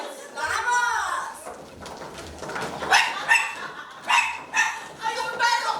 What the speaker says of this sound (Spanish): ¡Hay un perro! ¡Y no nos deja pasar!